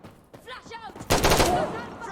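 Gunfire in the video game Insurgency Sandstorm: a short burst of rapid shots rings out loud and close after a brief stretch of voices, with the shooting sustained over the second half.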